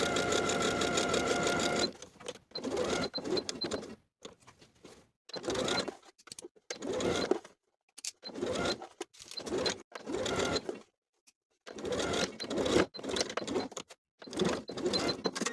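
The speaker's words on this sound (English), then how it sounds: "we're going to stitch around the entire perimeter of the cuff, 1/8 of an inch away from that inner pinned edge" Bursts of rapid sewing machine stitching run around the cuff of a plaid wool jacket, starting and stopping repeatedly with short silent pauses between runs, close and fairly quiet.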